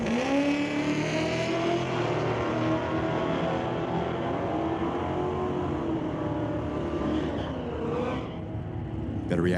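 Drag race cars, including an S10, accelerate hard down a drag strip in Chilliwack. Their loud engine roar rises in pitch through the gears and then fades with distance, while an announcer's voice runs underneath.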